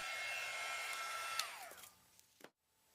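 Heat gun blowing steadily over solder on rhinestone chain for a scarab necklace, a soft continuous airy whir that drops in pitch as it winds down and cuts off, followed by a brief faint tail.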